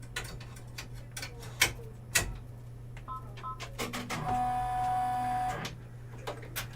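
An embroidery machine runs a tack stitch, with fast rhythmic mechanical ticking and clicking at close range over a low steady hum and brief beeps, and no speech.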